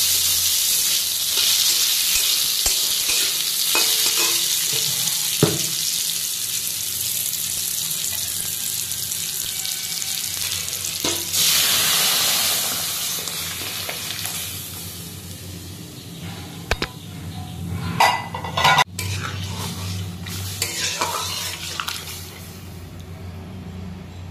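Dal goes into a little hot oil and frying sizzle rises, with splashing like running water and scattered clatters of utensils across a long stretch of kitchen activity.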